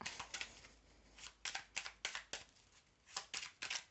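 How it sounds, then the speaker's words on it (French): Playing cards riffled and reshuffled in a series of crisp, fluttering bursts, each a quick papery rush followed by short pauses, close and moderately loud with no talking. "Bon, allez, je remélange."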